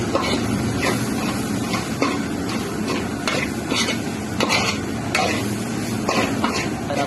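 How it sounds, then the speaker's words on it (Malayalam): Chicken curry gravy being stirred and sautéed in a pan, with chicken just added. A spoon scrapes and taps the pan steadily with an irregular rhythm over a constant sizzle, close and moderately loud throughout. "ഇനി നമ്മളത് ചെറുതായിട്ടൊന്ന് വഴറ്റി കൊടുക്കണം"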